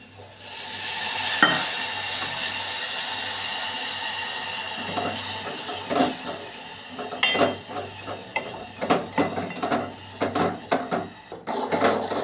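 Jaggery syrup cooking with water in a pot bubbles with a soft, steady simmer. Later come irregular scraping and knocking stirs of a utensil against the pot, near and fairly loud.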